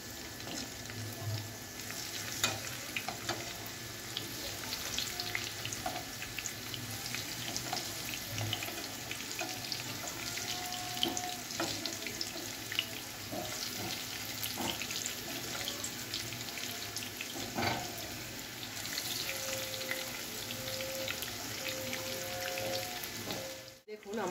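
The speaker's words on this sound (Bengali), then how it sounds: "চিংড়ি মাছের বড়াগুলো পুরো লাল লাল করে আমি এগুলোকে ভেজে নিয়েছি" Bengali prawn fritters (chingri macher bora) sizzle steadily in hot oil in a home kitchen, a continuous crackling hiss with occasional pops and faint clinks throughout.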